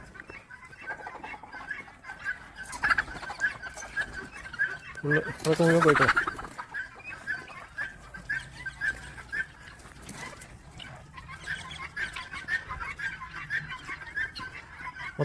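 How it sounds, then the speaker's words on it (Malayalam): Farm chickens, including local hens and guinea fowl, cluck faintly around their coops beside a bean garden, with one louder burst of squawking midway and people talking quietly nearby. "കോഴി മാത്രമല്ല, ചീനക്കോഴി ഉണ്ട്, നാടൻ കോഴിക്കളാണ് ഒക്കെ."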